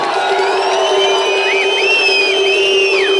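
A crowd at a samba school ball cheers and whoops loudly with sustained shouting and whistle-like calls, a steady dense roar throughout.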